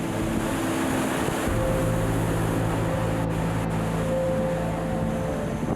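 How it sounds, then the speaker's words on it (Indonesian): Ocean waves crash against rocks below a cliff at Pelabuhan Ratu, a steady heavy roar of surf with wind noise, constant and fairly distant throughout. "Dengar suara ombak yang ada di bawah,"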